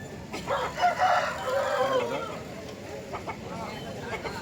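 An Andhra breed rooster crows once, a drawn-out call at moderate distance over a noisy market with voices murmuring throughout, followed by softer clucking and background chatter.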